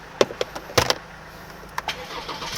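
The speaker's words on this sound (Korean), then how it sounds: "원터치로 한 번 딱 누르면은 이렇게 시동이 걸린다고 볼 수 있겠습니다" A 2020 imported sedan with an eight-speed transmission starts at the push of a button. Soft interior clicks lead into a brief starter burst, then a low idle hum settles in. Everything is faint and close.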